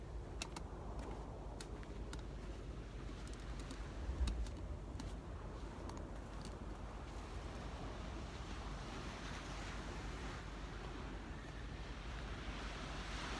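Ocean surf washes steadily near a shoreline park on a calm, flat day, a continuous broad rumble with faint wind buffeting and no clear individual wave breaks standing out.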